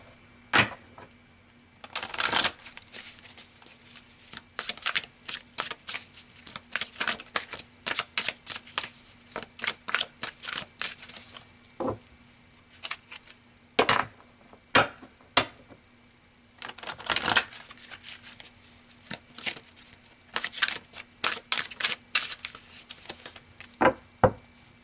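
Tarot cards shuffled by hand in repeated crisp riffling and slapping bursts, close and clear, separated by short pauses, with no talking.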